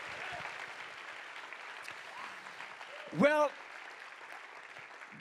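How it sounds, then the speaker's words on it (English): A church congregation gives a steady round of praise clapping, soft and spread out, with a single loud whoop or shout cutting through partway. "Now let's give him a real clap and a praise that's worthy of his name"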